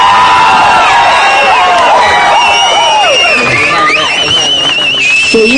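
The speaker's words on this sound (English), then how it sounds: "Please give a big round of applause." A crowd at a book launch event for Thalapathy Vijay cheers and shouts loudly and continuously, with whoops and high excited voices layered over a dense, close babble throughout.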